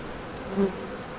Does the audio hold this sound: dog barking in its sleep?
no